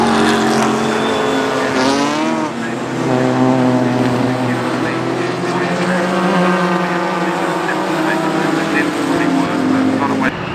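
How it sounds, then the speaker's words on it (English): Yellow classic Ferrari sports car racing into the pits at Oulton Park during a CSCC classic race, its engine a loud, sustained rising and falling drone heard close, with race commentary talking over it throughout. "Into the pit straight away comes John Saunders in that yellow Ferrari"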